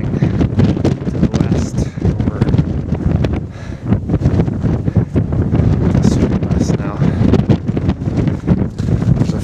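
Strong gusty wind batters the microphone on a mountain ridge, roaring in loud, uneven buffets with brief lulls, close and rough throughout.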